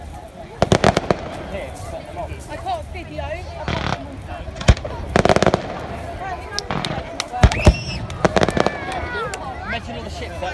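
Fireworks burst at Bognor Pier in a string of sharp cracks and bangs, some loud and close, others distant, while people chat nearby.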